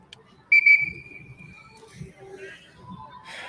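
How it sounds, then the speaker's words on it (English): A referee's single long, sharp whistle blast signals ready to play after a timeout at a women's football game between the Oregon Cougars and Portland Fighting Shockwave, loud and held, then crowd murmur and talk follow. "There's the ready to play whistle."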